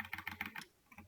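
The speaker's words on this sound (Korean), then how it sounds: "쉬프트를 누르고 키보드를 막 이렇게 하면은 드래그가 되는 건 다 알고 계시죠" Computer keyboard keys pressed in a quick run of about five clicks, then a short pause and two softer taps, recorded close during a C programming lesson on keyboard shortcuts, with no voices.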